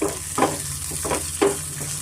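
Tempering sizzling in groundnut oil for a spinach and moong dal dish, a steady fry hiss broken by three short bursts of stirring, close and alone without talk.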